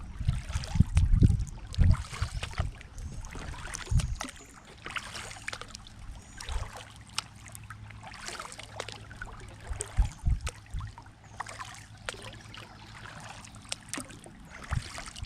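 Paddle strokes splash and drip from a canoe or kayak gliding along North Moreau Creek, with low knocks against the hull at the start and soft trickling water between strokes, close and fairly quiet.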